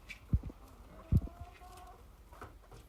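Young chickens, about ten weeks old, cluck softly outdoors in the snow, with a few faint scattered calls and small thumps over a quiet background.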